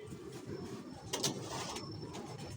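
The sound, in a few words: pigeon cooing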